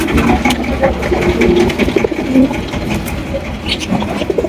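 A male pigeon of a fancy pair calls with repeated throaty coos close by, over a busy background of other birds and mechanical hum.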